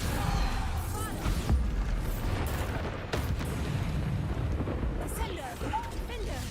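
Bombarda explosion spells from Hogwarts Legacy boom and crackle repeatedly amid dense, continuous combat noise, with spoken voices over the top throughout.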